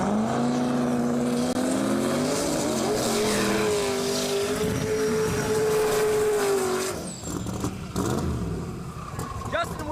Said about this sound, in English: Justin Willis in the far lane with that big gnarly burnout.